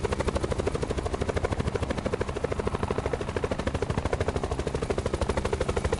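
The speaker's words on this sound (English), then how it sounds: "somebody's firing at me again" Rapid, evenly pulsing gunfire fills Black Ops 4 Blackout, a steady loud chatter of automatic shots running the whole stretch without pause, heavy and mechanical like a rotor-paced machine gun.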